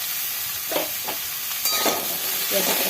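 Bottle gourd pieces tossed and stirred in a frying pan with salt, giving a few short scraping swishes over a continuous hissing sizzle, close by with no talk.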